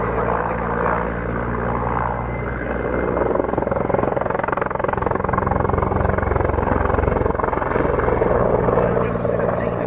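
A military helicopter flies steadily overhead, its rotor and engine making a continuous broad whirring roar, while someone talks over it throughout.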